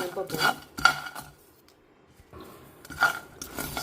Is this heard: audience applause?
no